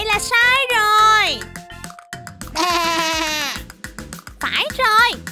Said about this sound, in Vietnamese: đây là tiếng kêu của bạn cừu bông mà